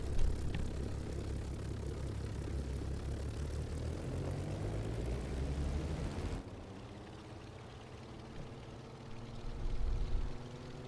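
Propeller engines of a Hughes XF-11 aircraft in Microsoft Flight Simulator drone steadily, a dense buzzing roar that abruptly shifts to a lower, smoother tone midway and swells slightly near the end, with no talk.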